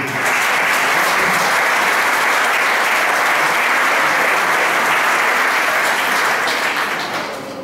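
An audience at a CD presentation at an Aragonese cultural centre in Puerto de Sagunto gives a musician a sustained round of loud applause, dense clapping that holds steady before tapering slightly at the end.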